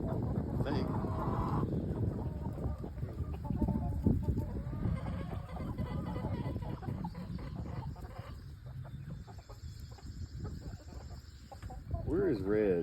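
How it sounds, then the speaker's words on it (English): Chickens and young roosters in a yard cluck and squawk in a busy, overlapping flock, close and fairly loud, with a person talking underneath at times. "That was one of the young roosters."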